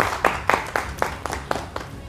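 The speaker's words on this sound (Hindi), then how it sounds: "इनके लिए जोरदार तालियां हो जाए।" A few people at a retirement benefits session give a short burst of applause: about eight separate, evenly spaced claps at a steady rhythm, moderately loud in a quiet room.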